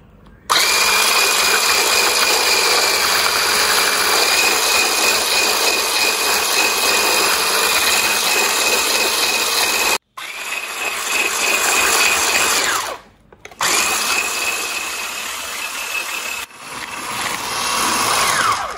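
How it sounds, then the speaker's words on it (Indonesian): An electric hand mixer whirs loudly and steadily while beating eggs and sugar for pancong batter. It runs alone with no talk, and there are two brief stops before it picks up again. "ini kita mixer sebentar aja sampai agak pucat dikit"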